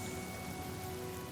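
Steady rain falls in the video game Honkai Star Rail, a dense, even hiss of drops with a faint tonal hum underneath, brief and unbroken, with no voices.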